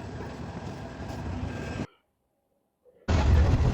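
Prabal Express running from Chittagong toward Patiya: a loud, steady rattling rumble of the moving train that cuts out abruptly for about a second, then returns just as heavy.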